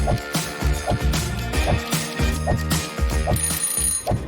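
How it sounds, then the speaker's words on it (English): A mobile phone rings with a bright, repeating melodic ringtone, the same short phrase cycling steadily and loud for the whole stretch, with no voices over it. "That's when the phone rang."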